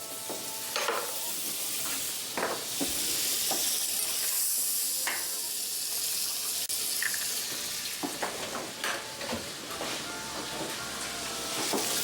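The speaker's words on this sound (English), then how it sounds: "For the egg, we're just melting a little butter." Butter melting and sizzling in a frying pan before an egg goes in, a steady close hiss with scattered crackles and light scrapes or stirring clicks throughout, no voices.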